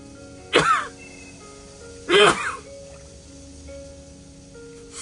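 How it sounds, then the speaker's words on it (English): Two sharp sneezes from a nearby person, about a second and a half apart, each a brief loud burst over a quiet room with faint background hum. "gonna sneeze, hold on."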